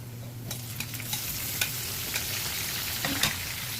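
Garlic and onion being stirred in a hot pan, a steady low sizzle with scattered scrapes and clicks of a utensil against the metal.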